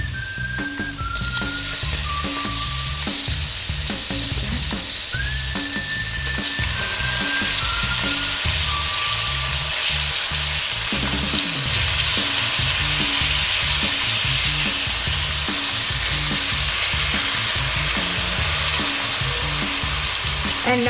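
Shrimp sizzle and fry loudly in a pan for linguine shrimp pasta, a steady hiss running throughout with repeated scraping stirs and a few brief whistle-like tones on top.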